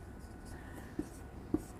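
Chalk or marker writing out an accounting solution on a board, a couple of short scratchy strokes with small taps over a quiet room.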